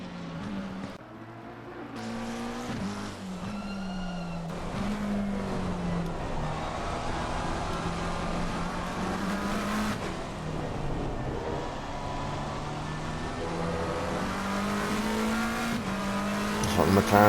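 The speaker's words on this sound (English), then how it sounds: "Looks like the McLaren's got a little bit better drive off the corners than the Lamborghini." McLaren and Lamborghini GT race cars lapping the Nürburgring in the ACC (Assetto Corsa Competizione) racing game, engines droning and shifting pitch steadily throughout, close and loud, with a commentator talking over them.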